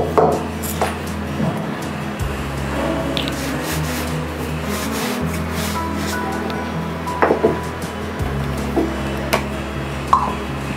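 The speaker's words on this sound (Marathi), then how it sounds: "आता मी ते मस्त पुसून घेते" A cloth wipes a new stone mortar clean in steady, close, repeated rubbing strokes over a low, constant hum, with a few faint clinks.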